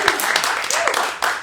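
A live audience at a kitchen concert bursts into a round of applause, broadband clapping that fills the short moment with dense, steady hand claps close by.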